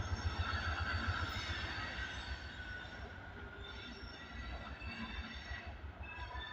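A switcher locomotive at Abbeville pushes railcars onto a yard track, with steady rolling rumble and high, sustained wheel squeal from the cars, heard at a moderate distance with no talking.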